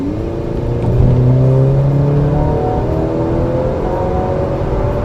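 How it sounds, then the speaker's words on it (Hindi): A Maserati Grecale SUV in sports mode revs hard, its engine note climbing and swelling in rising harmonic sweeps before settling into a sustained, loud, close growl with no talking. "What adds to the fun element of Grecale is the sound it makes."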